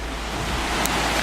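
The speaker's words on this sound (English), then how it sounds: "Look at that water." Fast-running water near waterfalls on Mt. Baldy, a steady loud rushing roar that is close and continuous, with no voices.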